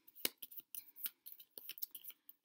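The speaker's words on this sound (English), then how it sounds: "First thing I'm going to do is shuffle these green tea leaf cards." Green tea leaf cards are shuffled by hand, giving a run of crisp, close papery riffles and slaps in quick uneven bursts, alone with no talking.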